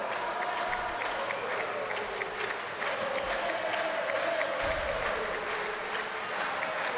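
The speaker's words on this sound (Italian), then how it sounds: "sentite anche i tifosi della Junior Fasano che già festeggiano una vittoria scritta" Handball fans of Junior Fasano applaud and cheer a nearly won home match against Trieste, a steady crowd roar with clapping filling the arena, broad and continuous at moderate distance.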